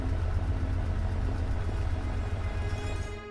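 A steam engine in the game Lamplight City hums low and steadily under a constant airy hiss, close by and unbroken, fading slightly at the very end.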